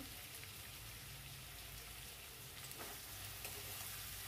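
Raw chicken, about 400 grams, frying in a pan with ginger garlic paste while being stirred, a continuous soft sizzle with occasional scraping clicks, no voices.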